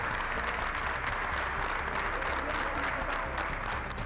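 Hospital staff at Gran Canaria's Dr. Negrín General Hospital applaud in tribute to pandemic victims, a continuous mid-level patter of many hands clapping together, steady throughout without voices.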